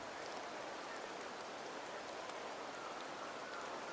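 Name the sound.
rain falling in Wuthering Waves video game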